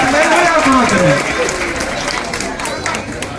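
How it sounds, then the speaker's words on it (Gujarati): A crowd applauds at a Gujarati felicitation ceremony honouring saints and community servants, steady clapping under a voice speaking over it throughout. "તાળીઓ ચાલુ રાખો, જય ચાલુ રાખો।"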